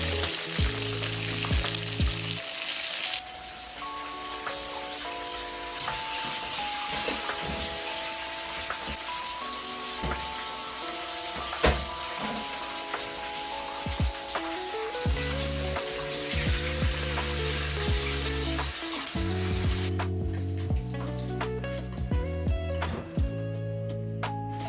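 Food frying in a pan during home cooking in Japan, a steady close sizzle running the whole time beneath a melodic, tonal background.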